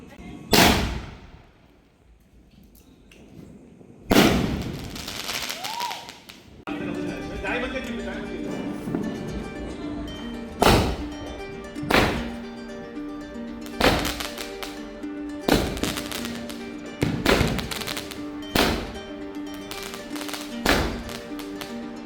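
A medium-size Miss Daisy firecracker is set off during Diwali, giving a run of sharp, loud bangs and crackles at irregular intervals over a background of voices and music.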